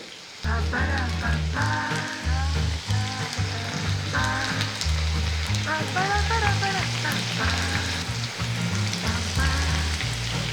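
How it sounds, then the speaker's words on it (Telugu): Apollo chicken pieces fry in oil over a low flame, Hyderabadi street style, giving a steady, close crackling sizzle that runs the whole time beneath a layered tonal backdrop. "కొంచెం లో ఫ్లేమ్లో పెట్టుకుని గోల్డ్ కలర్ వచ్చే వరకు దీన్ని ఫ్రై చేసుకోవాలి"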